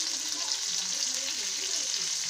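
Oil sizzles steadily on a hot griddle pan, a dense, even crackle close by and unbroken throughout, with faint soft stirring shifts underneath.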